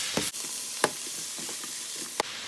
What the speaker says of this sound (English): I'm just gonna give this a stir.